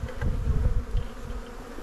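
Honeybees buzz in a dense, steady drone around a wooden hive box, close to the microphone and without any voices.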